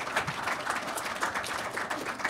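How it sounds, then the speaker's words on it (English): Audience applause for a cybersecurity panel's speakers, a fairly soft, even patter of many hands clapping, heard from some distance for a couple of seconds. "One more round of applause for all of them."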